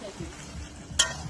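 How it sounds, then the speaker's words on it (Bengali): Mutton cooking in a pan for dinner, a faint steady sizzle with one brief sharper clatter or spatter partway through, alone without talk. "আর দেখো এখানে মাটন রান্না হচ্ছে।"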